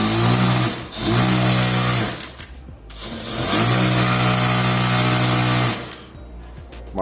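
A repaired MEG MAK direct drive straight-stitch sewing machine runs loud and close in two long stitching bursts, with a short pause and a brief stop between them.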